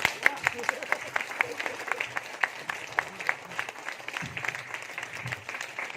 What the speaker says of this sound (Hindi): थोड़ा ताली वाली मार के करो